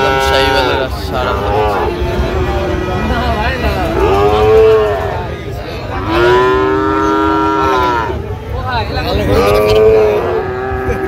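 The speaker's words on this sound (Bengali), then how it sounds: "শাহিওয়ালের ষাঁড়" At a crowded cattle market in Dhaka, a Sahiwal bull lets out several long, resonant moos in turn, loud and close, over a steady murmur of people talking.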